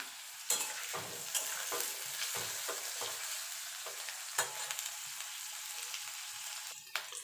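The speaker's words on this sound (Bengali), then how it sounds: "আলুটা একটুখানি ভাজা ভাজা করে নেব।" Potatoes sizzle in hot oil in a pan, with a spatula scraping and stirring in irregular strokes, close and steady.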